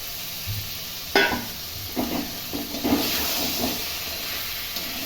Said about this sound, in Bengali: এবার আমি এর মধ্যে কাঁকড়া আর ভাজা আলুটা ঢেলে দিলাম